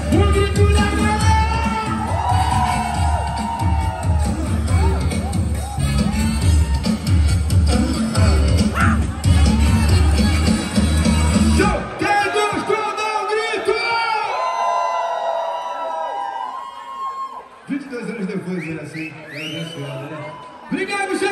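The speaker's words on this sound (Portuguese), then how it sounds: "Cadê o grito da galera?" Wedding party crowd shouting, whooping and cheering during a funk MC's performance: a dense, loud roar with music for about twelve seconds, then thinning into scattered voices and calls.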